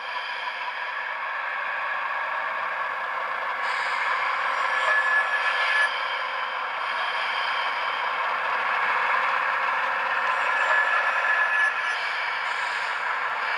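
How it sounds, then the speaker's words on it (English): Brake squeal and hiss from a LokSound sound decoder in an Atlas H-16-44 model diesel locomotive running in reverse, a steady scraping, rattling tone that holds throughout with slight swells. "throw this guy into reverse so you can hear the brake sounds"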